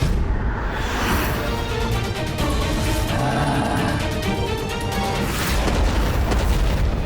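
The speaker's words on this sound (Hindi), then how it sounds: "सर्वत्र होते ये विस्फोट मुझे अपार आनंद दे रहे हैं।" Continuous heavy explosions rumble and boom, one blast rolling into the next in a dense, loud barrage.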